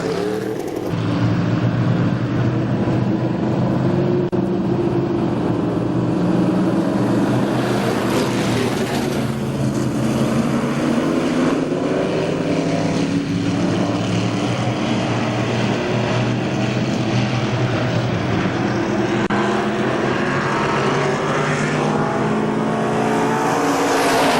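Race cars at KilKare Speedway warming up for a hot lap session, a dense, continuous roar of several engines droning and revving loudly together for the whole stretch without any speech.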